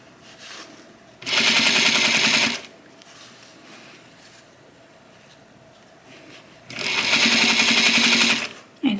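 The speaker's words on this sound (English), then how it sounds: "And stitching it all the way down." A sewing machine stitches binding onto a jacket in two loud, close bursts of rapid whirring separated by several seconds of quiet.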